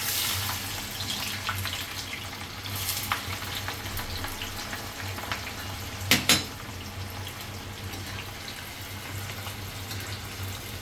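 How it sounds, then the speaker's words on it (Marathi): Onions frying in hot oil in a home kitchen while cooking chicken biryani, a steady dense sizzle with brief stirring clatters near the middle. "असा मी थोडा करून सर्व कांदा तळून घेणार आहे."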